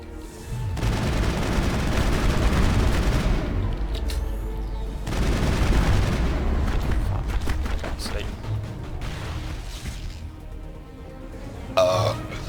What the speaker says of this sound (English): So I got the shitty standard generic gun that you start the game with.